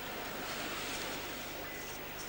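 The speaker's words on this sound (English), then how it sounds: "Guess it's the waves rolling in." Ocean waves roll onto a beach in a steady, broad wash of surf that fills the whole stretch, with no distinct breaks and no voices.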